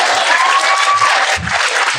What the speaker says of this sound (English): Let's clap it up for B. Simone.